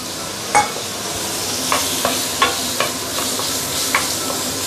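Prawns frying with garlic in a pan, a constant bright sizzle close up, punctuated by several sharp taps and scrapes of a utensil against the pan.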